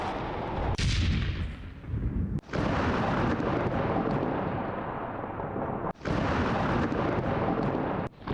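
A loud, sustained roar of blasts near a hospital in Gaza following a rocket attack, with heavy rumbling booms, sharp cracks and abrupt cutoffs between long thunderous stretches, close and overwhelming.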